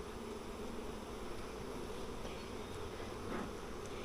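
Honey bees buzz around a hive that heavy rain had floated away, a steady dense hum of many insects with no voices, fairly quiet and constant throughout.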